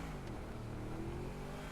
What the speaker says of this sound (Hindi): ओहो भाई साहब, बहुत तेज गाड़ी है ये तो